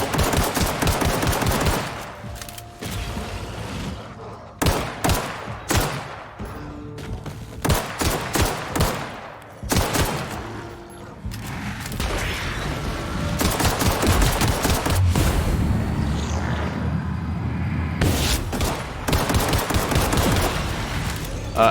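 Sustained video game gunfire in The Outer Worlds, loud rapid bursts of automatic shots repeating in clusters, with a steadier rumbling stretch later, no voices.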